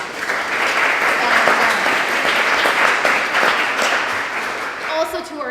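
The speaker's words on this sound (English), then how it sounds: "let's just give them a round of applause" Loud applause fills the room for the mentors during opening speeches at a hackathon-style event, dense steady clapping that swells and then thins out near the end.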